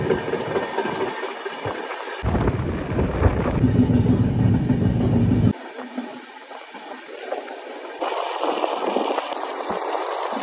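A Howrah–Jagdalpur express runs steadily on its long journey, heard from on board as a continuous loud rumble and rattle whose tone shifts abruptly several times.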